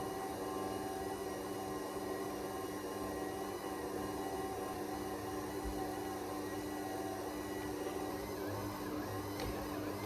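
Close, steady whirring hum of an electric mixer kneading soft bun dough for chicken burgers, constant and unbroken throughout with no talk.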